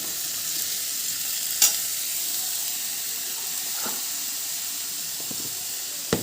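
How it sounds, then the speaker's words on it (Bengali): Pumpkin and curry ingredients fry in a pan with a constant hissing sizzle close by, broken by a few sharp clinks of stirring, with no one speaking. "তবে এগুলো ভালো করে আমি একটু ভাজা ভাজা করে নেব।"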